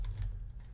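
Typing on a computer keyboard while composing an email, a brief burst of soft keystrokes close by over low background hum.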